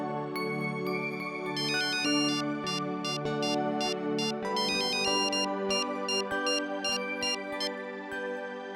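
A phone ringtone plays continuously and loudly, a repeating electronic melody with no voices over it.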